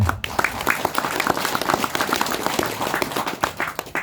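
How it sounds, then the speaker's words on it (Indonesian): An audience at a dzikir manaqib religious gathering claps steadily, a dense patter of hand claps sustained throughout at moderate loudness with faint crowd murmur. "Tepuk tangan buat semuanya"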